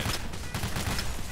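Rapid gunshots crack in a Payday heist shootout, a brief, dense flurry of loud shots.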